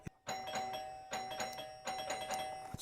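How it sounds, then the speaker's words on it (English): An electric door chime keeps ringing while a doorbell circuit is connected, giving a sustained, repeating ding-dong tone, close and clear, with no talking. "when you make the connection, if your door chime is still going off, it's just the button"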